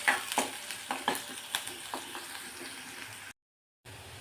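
Chopped onion and garlic sauté in hot oil with a pinch of asafoetida while a spoon stirs, giving a soft steady sizzle punctuated by rhythmic scraping strokes, then a brief silence before the frying resumes.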